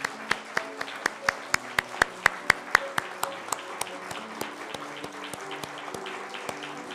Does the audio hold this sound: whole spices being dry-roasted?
no